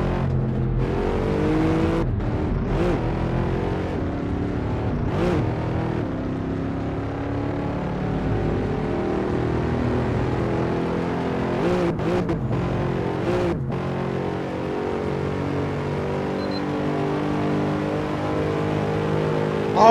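McLaren car engine in Assetto Corsa, a sustained loud racing drone revving steadily for about twenty seconds, with a few sharp gear-shift breaks and no talk.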